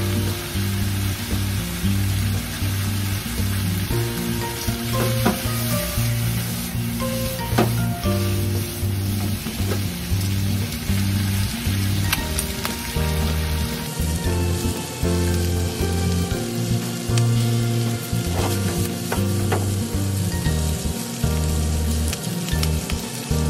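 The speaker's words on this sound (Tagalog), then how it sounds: "Ingat lang tayo pag-prito nito guys kasi tumatapit." Steady, loud sizzling of squid frying in a hot pan for adobong pusit, crackling and spitting continuously with occasional sharper pops, no voices.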